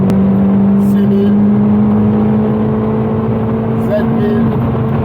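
A 2001 Citroën Saxo VTS Phase 2 engine revs hard and steadily, a loud, sustained droning note that holds close and dominates throughout.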